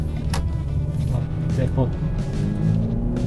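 A 2015 Ford Fusion with all-wheel drive hums steadily from inside the cabin, a smooth low engine drone running throughout with a few faint clicks and rattles on top.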